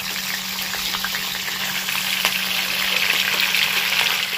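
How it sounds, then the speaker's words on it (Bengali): Chicken pieces fry in smoking-hot oil for a large-batch celebration chicken curry, giving a steady, dense sizzle that holds for the whole stretch, with a few faint clicks of a utensil underneath. "এইবার চিকেন গুলোকে ফ্রাই করে নেব।"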